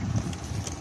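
Wind rushes across the microphone at a riverside spot, a steady low rumbling buffet that stays loud through the brief moment, with no voices heard.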